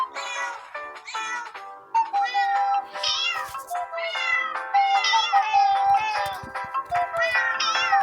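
Many cartoonish cat meows from the Cat Condo video game, overlapping in a rapid, busy chorus of high, sliding mews, loud and continuous.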